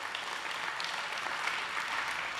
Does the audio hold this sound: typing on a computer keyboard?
no